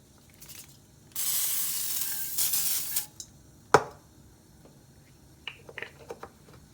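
Cooking spray hisses from a can onto a pan heating on a stove for about two seconds, followed by a sharp clatter and a few faint kitchen clicks, all close and without talk.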